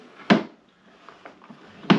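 A drawer on a Gerstner Style 52 wooden machinist's tool chest slides and shuts, giving two sharp close wooden knocks with soft rubbing between them, no talk.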